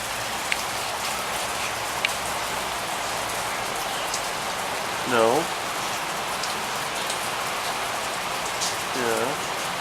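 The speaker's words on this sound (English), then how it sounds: "No, it's raining." Steady rain falls throughout, a dense even patter on surfaces in Thousand Oaks, with a couple of brief louder warbling sounds partway through and no clear talk.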